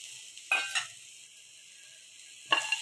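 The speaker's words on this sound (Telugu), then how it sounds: "బాండీ వేడైంది. ఎండు కొబ్బరి వేస్తున్నాను." Dry coconut dropped into a hot pan gives two short bursts of sizzling and stirring, the first around the middle of the clip and another near the end, quiet with near silence between.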